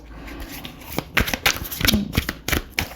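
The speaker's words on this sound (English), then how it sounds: "So the cards are not really glossy, but not matte either. And they're very difficult to shuffle." Overhand shuffling of Monochromatica tarot cards with a semi-gloss finish, heard as a quick series of close, crisp riffling slaps and soft card rustles in short bursts, with no talking.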